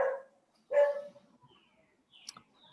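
A dog barks twice, sharp and close, with a short pause between the barks, followed by faint rustling.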